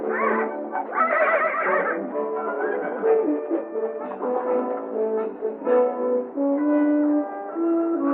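A horse neighs and whinnies loudly and repeatedly, close by, with shrill wavering calls and no other sounds.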